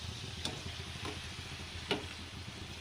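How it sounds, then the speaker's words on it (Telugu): Karjalu, a Sankranti special sweet, frying in hot oil on a high flame, giving a steady close sizzle and crackle with a few soft clicks from stirring. "ఇలా హై ఫ్లేమ్లో పెట్టి కాల్చుకోవాలి ఇలా రెడ్ కలర్ అయ్యేలా విధంగా కాల్చుకున్న తర్వాత వేసుకోవాలి"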